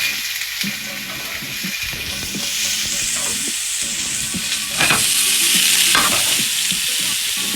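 Onions hit a hot pan off the heat for a quick beef sausage casserole and fry with a close, steady sizzle. Stirring scrapes and clatters run through it, and no one talks.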